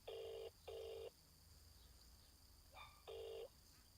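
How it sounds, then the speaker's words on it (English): Outgoing phone call ringback tone, two faint, evenly spaced double pulses of electronic ringing heard through a phone, separated by a quiet gap. "it is ringing."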